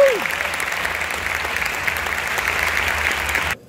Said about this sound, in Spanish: os pido, por favor, un aplauso enorme